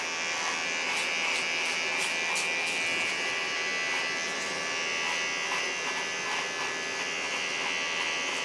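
Close, continuous buzzing comes from an electric trimmer with a zero blade clearing small hairs along a neckline, its pitch steady with faint stroke-like pulses throughout.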